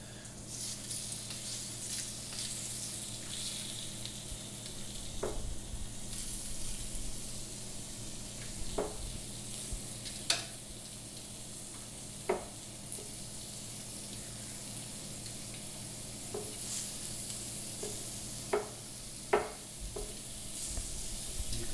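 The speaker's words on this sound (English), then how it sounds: "start hearing them sizzling" Steady, soft sizzling of shrimp cooking on a hot Himalayan salt brick, with occasional faint clicks and taps, and no voices.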